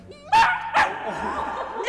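An Australian Shepherd mix puppy, about 13 weeks old, lets out two sharp, high yips close to the mic, then a thin whining trail, loud against a quiet room.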